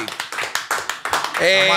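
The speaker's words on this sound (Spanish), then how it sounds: "Él mismo aplaudió." A single person clapping: a quick, uneven run of sharp handclaps, close and fairly loud, ending as a voice starts to speak.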